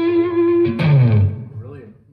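A distorted electric guitar tone through a Fender Mustang GTX100 amp with a large room reverb rings out, a sustained note, then a bending chord, trailing off into a spacious, roomy reverb tail.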